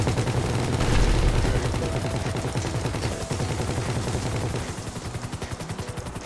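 Dense gunfire and rocket blasts in GTA Online during a heist, a rapid automatic rattle layered over rumbling explosions, loud and continuous before easing slightly toward the end.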